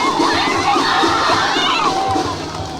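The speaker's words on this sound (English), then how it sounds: "This raucous crowd is kind of drowning you out a little bit." A raucous crowd at an Ohio Championship Wrestling summer event cheers and shouts continuously, with loud overlapping voices and children yelling in a packed venue.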